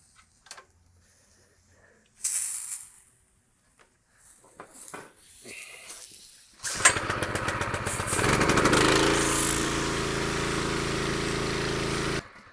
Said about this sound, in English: It's a lot harder to start your pressure washer or actually pull the pull string to start it.